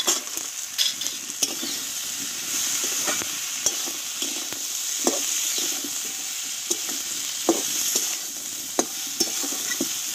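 Lentil dumplings (bori) frying in oil in a pan while a tilapia and drumstick curry is cooked, giving a steady sizzle with repeated stirring clicks and scrapes throughout, no talk.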